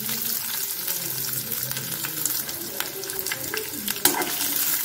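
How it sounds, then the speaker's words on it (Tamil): Onions sizzling in hot oil with dried red chillies and curry leaves, a constant close frying hiss overlaid by soft scraping stir strokes, with a sharper clink near the end. "நல்லா வதக்கிக்குவோம்."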